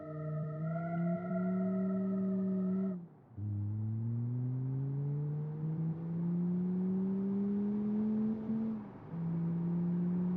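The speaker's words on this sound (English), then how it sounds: "Not a bad acceleration." A car pulls away hard after doing burnouts, its engine note climbing in long steady sweeps with a brief dip and a gear change. The sound is loud and close, with no voices.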